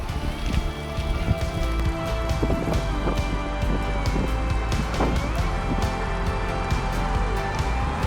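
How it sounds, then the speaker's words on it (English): Heavy rain pouring down during a downpour on a Rhine river bike tour, a dense, continuous hiss with scattered louder drops, steady and close throughout. "It is raining harder now."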